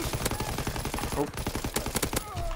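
Rapid hipfire gunfire in Call of Duty WW2 on PS4, dense automatic bursts with sharp cracks and a few louder single shots, continuous and close.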